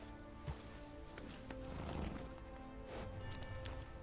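A horse in the RedM western game clip-clops along at a steady gait with faint, rhythmic hoofbeats and a soft background bed, quiet and somewhat distant.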